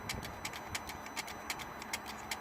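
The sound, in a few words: Mercedes ML320 CDI turbo actuator adjusting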